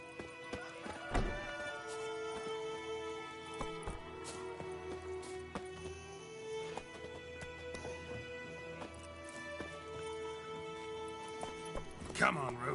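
The horse Roach gallops in The Witcher 3, its clip-clopping hooves and a whinny set under game music, with a heavy thump near the start and another near the end.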